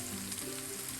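Bitter gourd frying in oil on low heat makes a steady, dense sizzle that runs without a break through the whole moment.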